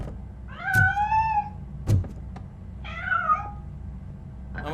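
A cat meows in the video game Robocop Rogue City, two clear drawn-out meows separated by a heavy thunk, with a quieter rumbling background and a hint of another sound at the end.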